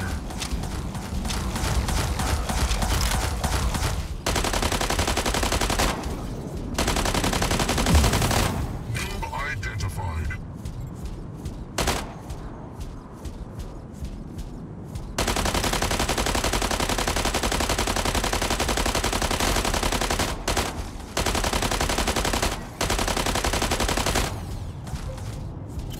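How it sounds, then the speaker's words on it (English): Rapid automatic gunfire in the Mech Arena mobile game, loud dense bursts repeating across the stretch with brief gaps of quieter mechanical noise between volleys. "Incoming fire."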